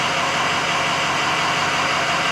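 A steady, loud 6.0-litre diesel truck engine idles up close, a constant mechanical rumble with an even rattle and no changes in pace, no talking.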